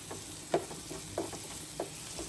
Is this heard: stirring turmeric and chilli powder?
yes